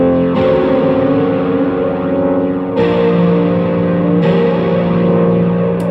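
A sustained harp chord, heavily distorted with effects and echo, rings loud and dense, re-struck twice across a few seconds, with no voices.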